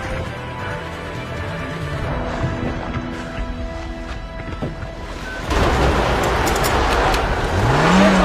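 A car engine roars during a Bollywood action-movie chase as a stolen police car is driven off, the rumble building steadily and then swelling sharply louder as the vehicle closes in.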